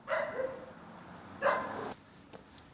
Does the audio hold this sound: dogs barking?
yes